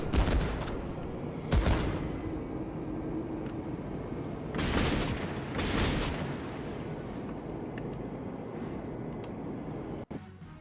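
Naval gunfire in World of Warships, with a steady battle rumble broken by several loud booming salvos that come in bursts and stand out on their own, followed near the end by a sharp single crack.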